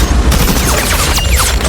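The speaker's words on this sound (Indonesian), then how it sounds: "Seorang sniper wanita terlibat baku tembak." A desert shootout in Namibia involving a female sniper erupts in a dense, loud burst of overlapping gunfire that fills the whole moment, with swirling film sound mixed in and no voices.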